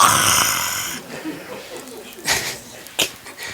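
A man imitates snoring with his voice during a Spanish-language sermon, giving a few short, rough nasal snorts spaced out across the clip, close and fairly loud, after an opening burst of tonal noise.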